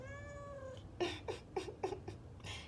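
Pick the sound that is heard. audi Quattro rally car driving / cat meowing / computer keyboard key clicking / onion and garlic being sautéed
cat meowing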